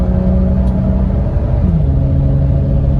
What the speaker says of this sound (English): Completely smooth upshift at full RPM.